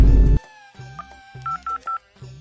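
A telephone keypad dialing: a brief loud burst is followed by a short run of distinct, clean DTMF beeps at an uneven pace, several of them close together, with no speech.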